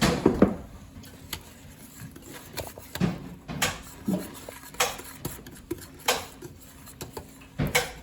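Ingredients for a Nilla Wafers treat are mixed in a bowl with a utensil, producing irregular clinks and scrapes against the dish in uneven bursts, close and clear, with no talking.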